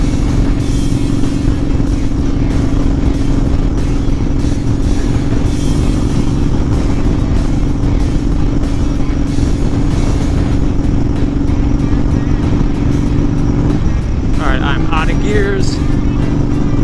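A Honda Fury motorcycle fitted with Cobra Speedster exhausts and a Powerflo air cleaner cruises at highway speed, giving a loud, steady engine drone with heavy wind rush and a brief pitch change near the end.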